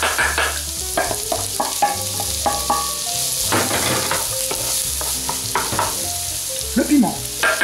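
Garlic and onion tossed into foaming butter with cardamom seeds for a chicken biryani sizzle loudly and continuously, with the clatter and scrape of a spoon against the pan throughout and no talking.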